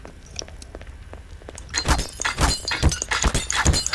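Glass struck repeatedly in the game Garry's Mod, a run of sharp cracking and shattering hits in the second half, loud and close after a quieter opening.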